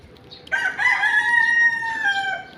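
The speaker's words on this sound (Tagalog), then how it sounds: "Maraming manok dito." A rooster crows once, a long, loud, close cock-a-doodle-doo that trails off at the end.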